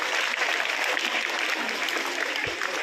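Steady applause from schoolchildren at a school award ceremony, a dense, even patter of many hands clapping at moderate distance, sustained throughout with a slight swell near the end.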